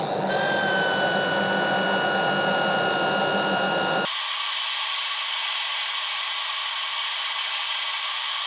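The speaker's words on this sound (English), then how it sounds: "Wet sanding here." A wooden chopping board is wet sanded as it spins on a wood lathe, making a steady, close mechanical whine that changes pitch and character abruptly midway, then holds evenly.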